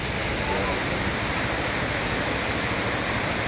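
Tamaraw Falls in Puerto Galera roars as a steady, dense wash of falling water, broadband and unbroken, loud and close throughout with no other sounds standing out.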